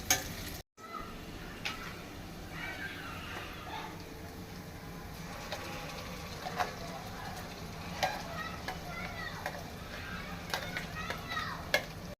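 Spices and garlic sizzle in hot oil in a home kitchen, a soft steady crackle with occasional stirring clinks, faint and close, with a voice talking quietly over it.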